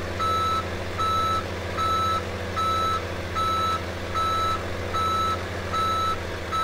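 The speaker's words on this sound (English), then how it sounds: "this truck is full of asphalt, which will be nice. We'll back up here and we'll start to dump it." An asphalt-laden truck backs up in Farming Simulator 17, its reversing alarm beeping in an even, repeating rhythm of about nine loud tones over a steady low diesel idle, with no talking.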